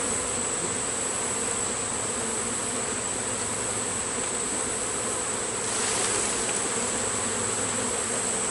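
Honeybees swarm around hive number four during an open hive inspection, a dense, continuous, close buzzing that stays loud and unbroken throughout, with no voices.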